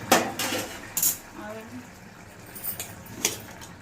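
A metal lid comes off a cooking pot of dal at home, giving a few sharp clanks and scrapes of metal on metal among quieter kitchen sounds while a person talks.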